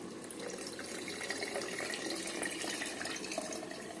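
Tamarind water poured into a pot of drumstick curry, a steady close liquid pour and splash lasting throughout, moderately loud with no talking.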